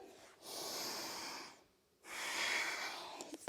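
Two long audible breaths during a strong yoga flow, a drawn-out airy exhale followed by a pause and a second forceful breath, close and breathy with slight nasal rasp.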